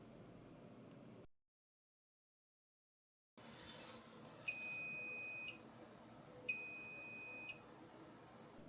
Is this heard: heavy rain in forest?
no